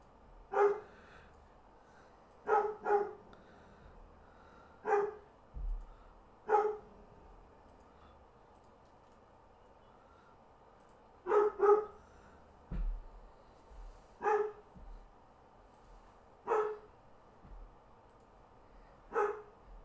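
Sharp single and doubled dog barks repeat roughly every two seconds over a quiet background, each bark brief and punchy, moderately close, with no talking.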